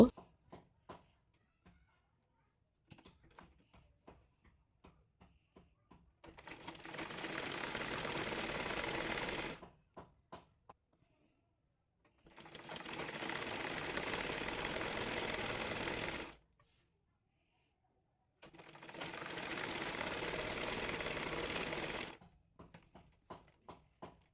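Sewing machine stitching the kali panel of a long salwar to its lower section, running in three steady bursts of several seconds each, separated by quiet pauses with faint handling clicks.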